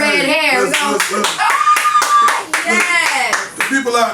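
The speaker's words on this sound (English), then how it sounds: "Hold on, we gonna clap for that red hair." A crowd claps hands steadily through a talk-show style interview, the applause running under a voice and other voices cheering and speaking throughout.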